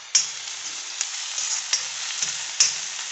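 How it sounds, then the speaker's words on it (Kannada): Egg bhurji frying and being stirred in a pan, a steady sizzle with a few sharp scraping clicks from the spatula, close up and alone. "ಇವಾಗ ಇಲ್ಲಿ ಫ್ರೈ ಆಗ್ತಾಯಿದೆ."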